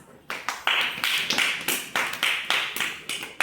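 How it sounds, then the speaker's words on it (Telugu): Classroom applause for a pupil during a Telugu lesson, several children clapping in quick bursts of sharp, fairly close claps that repeat rhythmically throughout, with no talking. "Very good. క్లాప్స్."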